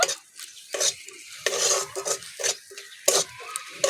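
Spices for oil-free ghugni are stirred and scraped in a pan, giving a series of uneven clinks and scrapes of a utensil against metal with a faint sizzle between strokes.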